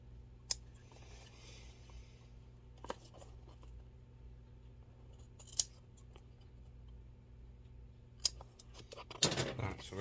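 Scissors snip at material on old dress shoes, a few sharp, quiet cuts spaced several seconds apart over low room hum, ending in a brief rustle.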